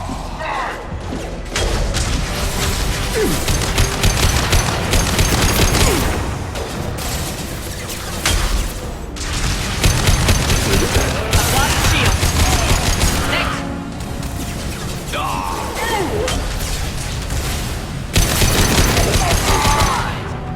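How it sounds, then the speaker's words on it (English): Heavy video game battle with an impact gun firing amid rapid gunfire, dense and loud throughout with booms and mechanical clatter, while voices call out over the action. "Firing an impact gun!"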